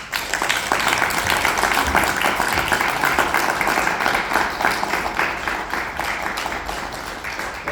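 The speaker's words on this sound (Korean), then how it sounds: "큰 박수로 환영해 주시면 감사하겠습니다." An audience at a lecture hall seminar claps to welcome a guest speaker, a steady, dense patter of many hands sustained for several seconds at moderate level.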